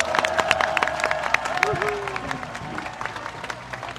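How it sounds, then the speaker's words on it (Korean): A political rally crowd applauds a candidate, loud clapping mixed with cheers, whistles and crowd murmur, with sharp individual claps standing out near the listener. "승리를 부르는 큰 박수 부탁드립니다."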